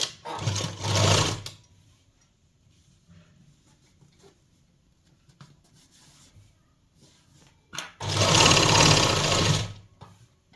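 A sewing machine stitches the lining of a Punjabi suit in two loud, steady bursts, one at the start and one near the end, with quiet handling of fabric between them.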